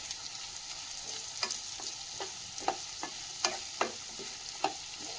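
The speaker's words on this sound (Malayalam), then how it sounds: "ഇതൊന്ന് ഇളക്കി യോജിപ്പിച്ച് കൊടുക്കാം" Capsicum and onion fry in a pan while a spoon stirs them, a soft steady sizzle broken by repeated close scrapes and taps, about one every half second, no talk.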